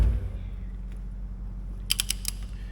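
Torque wrench tightening head bolts on a Caterpillar road grader engine, a short run of crisp ratcheting clicks near the end over a low steady hum, close by, with no talking.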